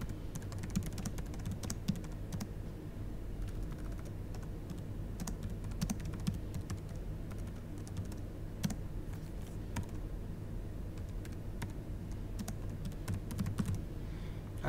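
Steady typing on a computer keyboard while entering orders: quick, uneven key clicks run continuously, close and clear, with no voices.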